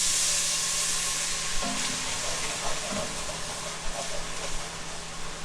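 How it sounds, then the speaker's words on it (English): White wine splashed into a hot pan for braised chicken, deglazing with a steady broadband sizzle and hiss throughout, a few faint clinks and scrapes of a utensil, no voices. "remember, we're about to add some white wine"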